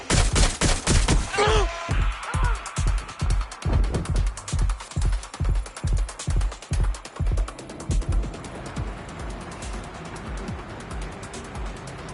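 Gunfire in the video game Watch Dogs: Legion: a long string of loud, evenly spaced shots, first in a fast burst and then as a steady pounding rhythm that fades into a noisy wash of firefight.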